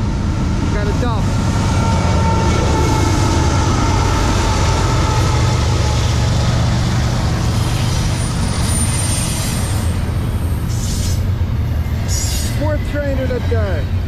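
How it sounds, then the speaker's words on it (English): A Norfolk Southern train rumbles past steadily for the whole stretch in New Jersey, low and loud, with brief metallic wheel squeals near the start and end. "Fourth train of the day."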